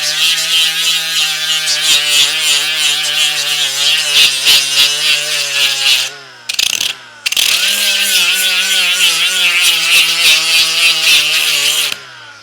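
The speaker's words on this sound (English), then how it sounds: "just get your grinder" Grinder working on metal of a Racer Engineering sand rail, a loud close steady whine with a strong droning hum, briefly cut off midway and restarted before running on and stopping.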